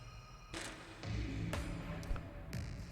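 Footsteps walk down a hall in a fantasy adventure scene: a steady series of soft thuds about every half second, moderately close, over a low rumbling background.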